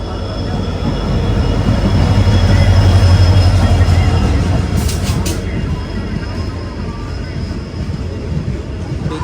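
A train on the adjacent track arrives beside an AC Express running from Coimbatore to Hisar. Its loud, steady rail rumble builds and then eases, with a brief high wheel squeal in the middle, and there is faint talk.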